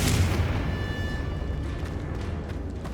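A Confringo fire-blasting spell goes off in Hogwarts Legacy, a single heavy boom at the start followed by a dense rumbling tail that slowly fades.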